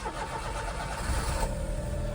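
A car engine runs loud and close after finally starting, a steady rumbling drone with slight swells in the middle and no voices.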